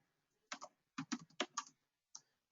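Computer keyboard typing a label into a Salesforce record type form, several quick clusters of crisp key clicks separated by short pauses, close and fairly quiet with no talk.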